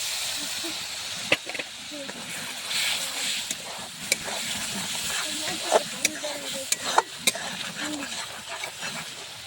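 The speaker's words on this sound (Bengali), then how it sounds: "মশলাটাকে আমি ভালো করে কষিয়ে নিব" Spice masala being sautéed in a pan with a little water while cooking ghugni, giving a steady soft hiss and sizzle with scattered sharp clicks and ticks from stirring.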